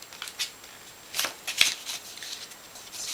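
Paper for a floral gift box being scored and burnished, a run of soft dry scraping and rubbing strokes with a couple of sharper crisp swipes, close and quiet with no talking.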